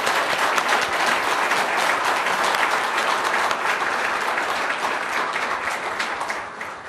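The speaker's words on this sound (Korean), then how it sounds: "우리 모디 총리님의 별에 대해서도 다시 한번 박수 부탁드립니다." Dense audience applause for Prime Minister Modi at a dinner reception for overseas Koreans in India, a loud, sustained roar of many clapping hands that eases slightly toward the end.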